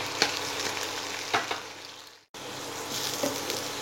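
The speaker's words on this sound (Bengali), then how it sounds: "হিটটা বাড়িয়ে কন্টিনিউ নাড়াচাড়া করে আমি সবজিগুলো 3 মিনিটের মতো একটু ফ্রাই করে নেব" Vegetables stir-frying in a hot pan for egg chowmein, with a steady close sizzle and scraping stirs, a brief gap, then continued frying.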